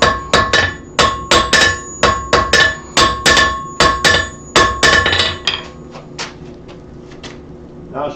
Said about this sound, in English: I'm hammering them